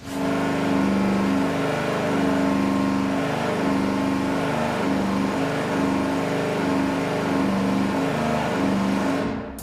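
A loud V8 engine holds a steady, sustained roar with strong harmonic drone throughout under load on a dyno during a power sweep, ending abruptly.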